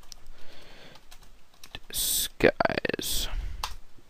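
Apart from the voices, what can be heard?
typing on a computer keyboard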